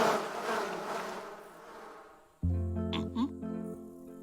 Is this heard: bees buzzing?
yes